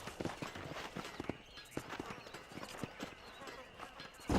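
Horse hooves clip-clop in a steady, rhythmic patter in the Western video game Red Dead Redemption, fairly quiet and close, with light background ambience.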